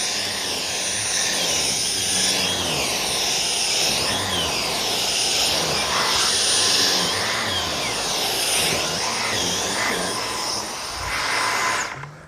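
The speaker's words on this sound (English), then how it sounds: "we're gonna do a couple tests on how well the machine picks up pet hair" A Dyson Micro 1.5kg cordless stick vacuum runs on a sofa while picking up pet hair, a loud steady airy whine with sweeping shifts in pitch as the head moves, ending with a brief drop near the end.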